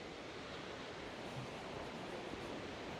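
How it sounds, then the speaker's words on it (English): Distant waterfall, the upper falls on a forest trail near West Vancouver, a steady broadband rushing roar that holds even and unbroken throughout, with no voices. "Goes down to what sounds like the waterfall."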